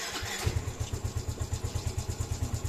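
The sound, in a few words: Yamaha Mio i 125 scooter engine starting with exhaust attached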